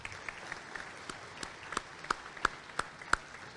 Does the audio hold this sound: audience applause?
yes